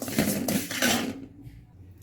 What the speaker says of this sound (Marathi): आता बडीशोप भाजून घेऊया आपण